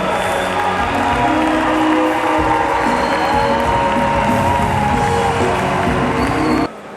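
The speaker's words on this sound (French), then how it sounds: "Rochmar Christian Kaboré, président du FASO, sous nos ovations les plus chaleureuses" A large audience applauds at the closing ceremony of the 26th FESPACO film festival, dense, loud clapping from a big crowd that carries on steadily and then cuts off near the end.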